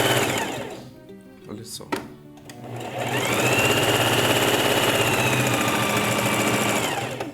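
Sewing machine hemming fabric with a hem foot: someone speaks briefly over a few soft clicks, then the motor whirs up to a fast, loud, steady stitching run that holds for several seconds before easing off.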